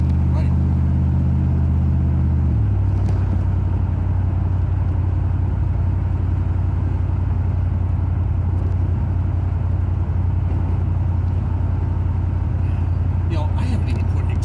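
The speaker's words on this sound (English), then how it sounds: "I haven't even put exhaust on this car yet." A 1974 Plymouth Gran Fury with a 440 cubic inch engine runs with no exhaust fitted and holed pipes, giving a loud, raw, steady rumble that shifts to a deeper drone after a couple of seconds, with talk over it.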